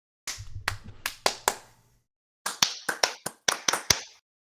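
Hands clap in a quiet podcast studio: two separate bursts of sharp, close claps, about five and then seven, each with a slight room echo and a short silence between the bursts.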